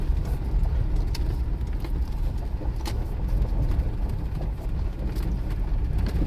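A 2002 Toyota 4Runner Sport Edition 4WD with 201k miles drives along a dirt road, heard from inside as a continuous low engine drone and road rumble with light rattles and bumps.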